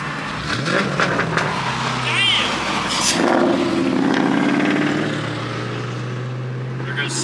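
A Ford Mustang with a 3-valve V8 running the Bama pop corn tune revs hard, the engine rising and falling with crackling pops, while people talk excitedly over it.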